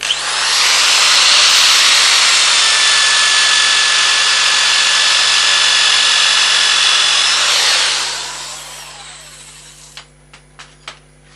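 A power sander working a wood piece on a lathe at 400 grit: a loud, close, steady whirring hiss for about eight seconds that fades away, followed by a few light taps.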